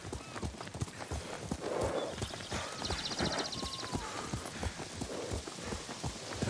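Hooves of a horse being ridden in Ghost of Tsushima clop in a steady walking rhythm, close and clear, with faint ambient chimes and sounds of the setting behind.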